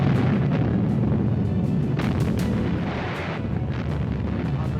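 Rapid, rumbling artillery fire in old war footage: a dense wall of heavy booms and low roar with repeated sharp blasts, loud and continuous.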